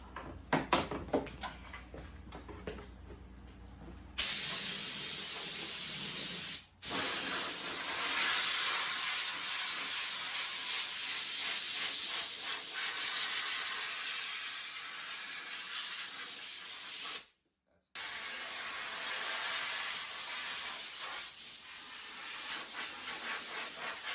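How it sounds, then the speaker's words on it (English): A spray can sends clear coat onto a masked-off headlight of a 2005 Toyota Tundra in two long, loud, continuous hissing bursts separated by a brief release. "I'm just spraying out of a spray can"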